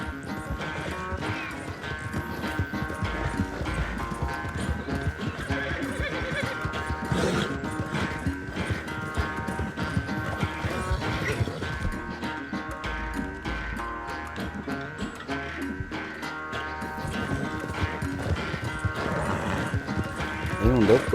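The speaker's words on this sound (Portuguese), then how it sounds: "Eu sei que galopar deixa o meu cavalo fudido." Horse hooves clip-clop in a steady gallop rhythm under loud background music, with occasional faint neighs and a person talking over it.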